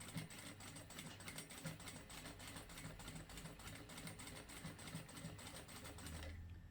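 Jack A4E industrial sewing machine stitching slowly, an even, steady train of close mechanical needle ticks and clatter running continuously before easing off at the end; fairly faint, with no talking.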